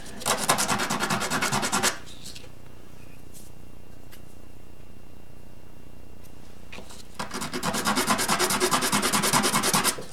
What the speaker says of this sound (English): All I'm doing is taking this excess CA finish off.